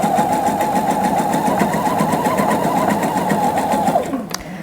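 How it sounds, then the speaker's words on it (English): A sewing machine stitching a dress runs as a steady, loud, close mechanical whir for about four seconds, then slows down and stops. "so I'm just going to sew this."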